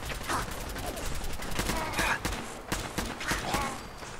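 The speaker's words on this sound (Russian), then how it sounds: "вот это вот пулемет Максим, слышишь?" Rapid bursts of Maxim machine-gun fire in Fallout 4, crackling steadily and loudly over several seconds with a few short pauses.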